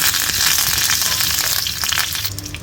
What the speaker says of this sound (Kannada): ಇದೇ ಎಣ್ಣೆಗೆ ಈಗ 5 ಬ್ಯಾಡಗಿ ಮೆಣಸು ಹಾಕ್ಕೊಳ್ತಾ ಇದ್ದೇನೆ